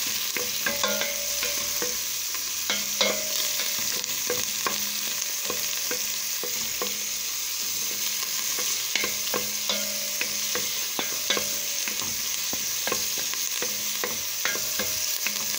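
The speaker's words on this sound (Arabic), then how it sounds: "شوحنا البصل مع التومة كويس قوي اهو. ننزل ايه بالفلفل والشطة، ناخد تقليبتين كده" Onion and garlic sautéing in oil with pepper and chili added, a constant close sizzle broken by repeated scraping and clinking stirs against the pan.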